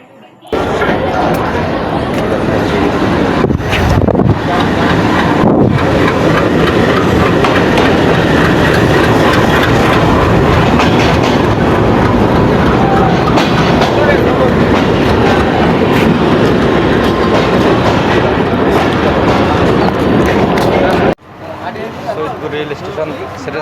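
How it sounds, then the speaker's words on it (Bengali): The Barendra Express from Chilahati pulls into Saidpur railway station. A loud, close, sustained rumble of rolling carriages with rhythmic clickety-clack and a couple of metallic slams, ending abruptly. Voices are faintly mixed in. "এই যে আমাদের ট্রেনও চলে আসছে। চিলাহাটি থেকে ছেড়ে আসা বরদ্র এক্সপ্রেস ট্রেন"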